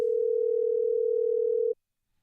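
A steady, loud telephone dial tone after a call was hung up, one unbroken single-pitch hum for under two seconds before cutting off to silence.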